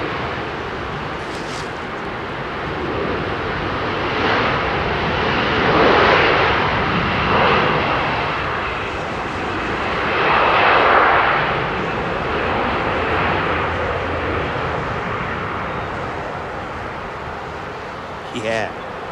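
An American Airlines jet at London Heathrow gives a continuous broadband engine roar that swells and fades across the clip, with voices talking over it.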